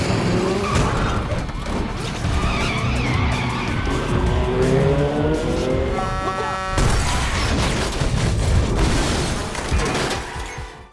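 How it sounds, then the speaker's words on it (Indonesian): Cars speed through city streets in a Denzel Washington action film scene, engines roaring with tire skids and impact-like bursts in a dense, loud mix that runs throughout, with a sharp burst of commotion partway through. "Mereka dengan cepat mengendarai kendaraannya karena waktu sudah semakin menipis."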